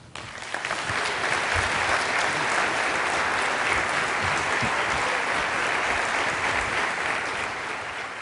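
Sustained applause from a large audience at the close of a speaker's talk, dense clapping swelling quickly and holding steady for several seconds before easing slightly.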